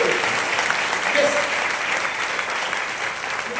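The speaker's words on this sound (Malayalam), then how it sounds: "ഒരു ബിഗ് ക്ലാപ്പ് അവർക്ക് കൊടുക്കും" An audience at a business company gathering applauding its guests, a loud, dense, continuous round of clapping filling the short moment from start to finish.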